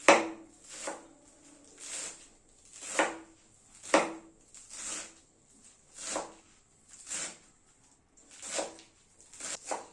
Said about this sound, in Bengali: পালং শাকটাকে রাফলি চপ করে নেব।